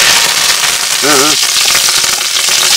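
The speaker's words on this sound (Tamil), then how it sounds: "என்ன சூடாயிடுச்சு கடுகு கொடுத்து போட்டுக்கிறோம் பாசத்துக்கு கருவேப்பிலை" Mustard seeds and curry leaves sizzling loudly in hot oil for a Tamil village wedding feast cooked in bulk, a dense steady frying hiss throughout, with a brief voice cutting in midway.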